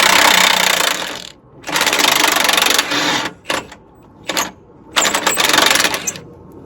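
A wrench works loose a rusted 19 nut on the rear suspension of a Nissan Armada during a rear spring replacement: loud, close bursts of mechanical rattling, two long runs and several short ones, separated by brief quiet gaps.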